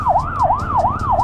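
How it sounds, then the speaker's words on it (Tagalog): An ambulance siren wailing in a steady rising-and-falling cycle on a rural road near a river area, loud and close, repeating several times with engine rumble beneath and no talking. "Okay, nakita tayong ambulansya, may sakay na turista yata."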